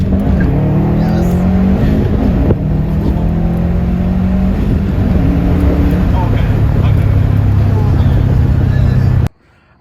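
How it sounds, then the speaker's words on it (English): A Subaru STI fitted with a Cobb Redline carbon intake accelerates hard in a launch, engine note climbing in pitch through the gears with loud intake roar, close and continuous until it cuts off abruptly. "You can even hear the intake noises and everything."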